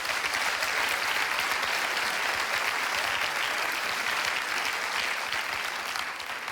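Steady audience applause fills the room at a French talk, dense and even throughout, many hands clapping at once with no voices rising above it.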